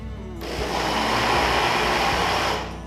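A kitchen blender starts up on gluten-free, lactose-free coconut cake batter. Its motor roars in abruptly, holds a loud, steady buzzing whir for about two seconds, then winds down.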